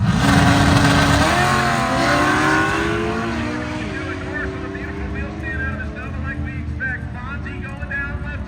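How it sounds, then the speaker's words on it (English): A turbocharged Barra six-cylinder 1979 Ford Fairmont drag races at a dragway, a loud engine roar that shifts up through rising tones and fades somewhat into the distance as other engine noise continues. "79 model Fairmont. That has a Barra motor in it, the 6-cylinder Australian motor with a turbocharger on top."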